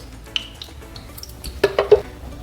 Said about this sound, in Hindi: अब लेंगे तड़का पैन, उसमें डाल देंगे थोड़ा सा देसी घी